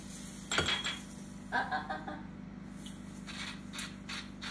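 A metal whisk works flour gravy in a pan, giving close clinks, taps and scraping strokes in irregular bursts over a quiet background.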